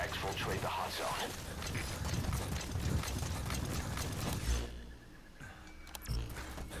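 Horse hooves clip-clop in Metal Gear Solid V, a rapid irregular patter of hoof strikes mixed with mechanical rattling. A voice talks over them before the sound drops away and a few isolated knocks follow.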